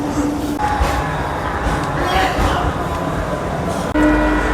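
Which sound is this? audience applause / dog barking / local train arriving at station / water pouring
local train arriving at station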